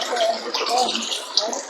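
Water bubbling and aerating from a pump near a rain gutter, a close churning gurgle with bursts of bubbles, and voices talking briefly.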